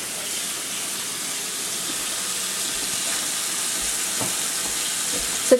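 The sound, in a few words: rinsing overnight-salted cabbage for kimchi under water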